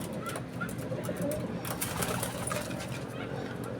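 Racing pigeons coming home after a 90 km flight in good weather, cooing softly outdoors amid steady background noise, with faint scattered bird calls and light voices nearby.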